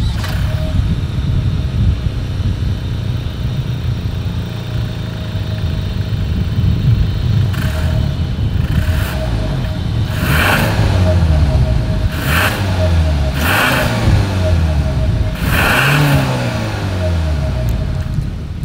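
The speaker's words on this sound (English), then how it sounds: "As always, here is that exhaust clip." A 2023 Hyundai Santa Fe SUV's deep engine rumble idles steadily, then revs rise and fall in several sharp bursts, loud and close, with a throaty exhaust note.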